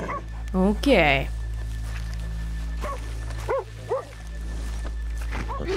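A dog barks and whimpers in Red Dead Redemption 2: a quick yipping burst near the start, then several short separate barks over a steady game backdrop, with someone talking briefly.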